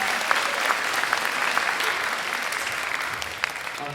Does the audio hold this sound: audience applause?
yes